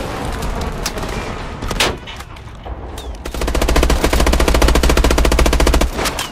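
Gunfire in the video game Call of Duty: Advanced Warfare: scattered single shots at first, then a long, rapid burst of automatic fire, loud and close, with no talking.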